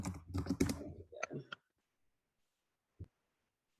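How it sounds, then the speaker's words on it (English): Keyboard typing during an online meeting, a quick burst of clustered key clicks followed by a pause and one more isolated click, fairly close and dry in a quiet room. "Oh, someone's typing."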